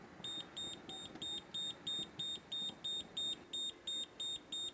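A handheld gas detector alerts after gas is released nearby, sounding a regular series of shrill, evenly spaced electronic beeps over a low background hum.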